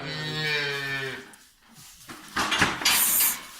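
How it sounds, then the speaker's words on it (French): Cows and calves mooing close by on a farm, one long deep moo followed by louder, rougher calls with some clattering in the background and no talk. "elles s'excitent hein, les vaches"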